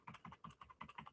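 Typing on a computer keyboard, rapid irregular keystrokes in quick bursts, close and fairly quiet, with no voices.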